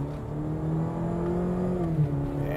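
A 2020 Cadillac CT5 with a turbocharged four-cylinder engine and a 10-speed automatic accelerating: a steady, droning engine hum that rises slightly in pitch, then dips briefly as it shifts, heard alone and fairly close.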